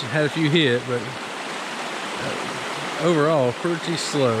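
A creek runs with a steady broadband rush under someone talking at close range, and the water carries on alone through the pause between his sentences.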